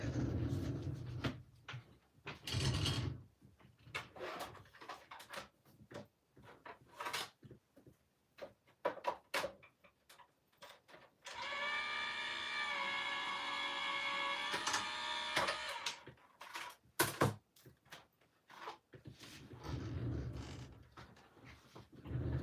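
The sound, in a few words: craft machine gripping and pulling folded card stock through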